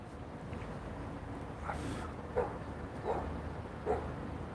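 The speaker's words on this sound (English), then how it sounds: "That dog is barking at me" A dog barks outdoors on a Dublin street near the docklands, giving about four short, faint barks at a steady pace, distant beneath the general outdoor background noise.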